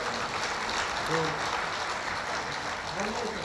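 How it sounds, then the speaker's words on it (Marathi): A crowd claps together at a devotional discourse during a Swami Vivekananda birth anniversary festival, a soft, steady patter of many hands, somewhat distant, with faint voices murmuring beneath it. "टाळी वाजवा सर्व."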